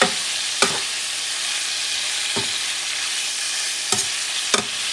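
Buckwheat and beef sizzling loudly in a pan over medium heat, with four sharp utensil scrapes spaced unevenly as the mixture is stirred.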